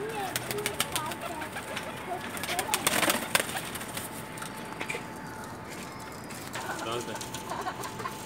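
Teddy pigeons with black wings coo softly amid a busy background, with occasional wing flaps and scattered clicks.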